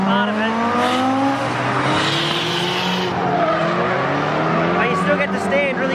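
Drift cars skid around an open race track at an all-girls drift day, tires squealing loudly and continuously with engines revving beneath, close and sustained, while a voice talks over the noise.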